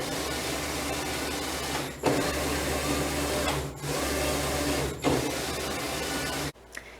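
Doyon LMA reversible dough sheeter with its belt running gives a steady mechanical hum and whir. It breaks off briefly three times and stops abruptly near the end, with no talking.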